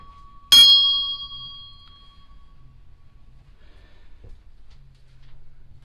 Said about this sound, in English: I love these bells.